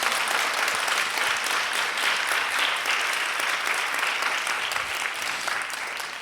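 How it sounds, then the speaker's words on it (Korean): A church congregation at an Easter revival service claps together in a long, even wash of applause that holds steady and eases slightly toward the end, with no talk over it. "우리 하나님께 영광의 박수입니다"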